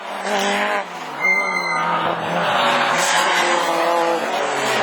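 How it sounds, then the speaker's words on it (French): A rallycross race car in a division 4 trial session works through the joker lap corner, its engine revving loudly and steadily close by, with a brief rise in pitch partway through and possible tyre scrubbing. No speech is heard. "le virage de l'arrivée du tour joker, Barbier, Grégory Pain, le pilote pointe bas"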